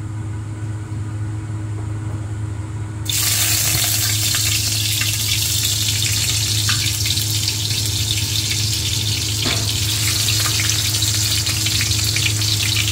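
Garlic hits a hot pan and bursts into a loud, steady sizzle that runs unbroken to the end, with faint stirring taps underneath.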